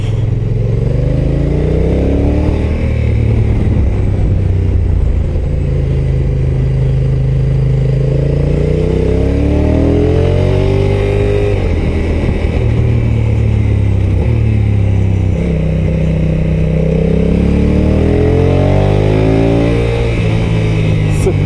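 A Honda NT 1100 DCT motorcycle accelerates hard in sport mode, the engine note climbing and falling in repeated sweeping rev runs through the gears, steady and loud throughout with a rider's voice talking over it.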